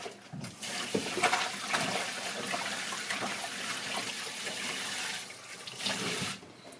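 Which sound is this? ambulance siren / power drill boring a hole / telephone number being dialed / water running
water running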